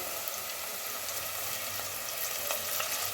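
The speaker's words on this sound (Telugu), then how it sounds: "చూడండి, ఉల్లిగడ్డ ముక్కలు అయితే మంచిగా గోలుతున్నాయండి" Onion pieces fry steadily in a pan for mutton curry, a continuous close sizzle with soft crackles and no voices throughout.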